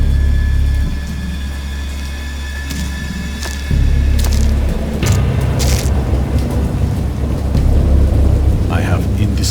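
A thunderstorm with heavy rain hissing steadily while deep thunder rolls in loud, low rumbles, one surge after another, with sharper cracks and brief swells of rain over the roar.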